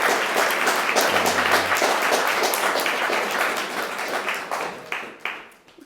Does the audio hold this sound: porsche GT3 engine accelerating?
no